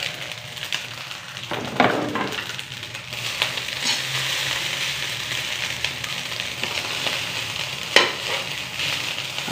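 Egg frying with rice in a pan for Filipino sinangag na may itlog, a continuous close sizzle with occasional louder stirring scrapes and crackles, no speech over it.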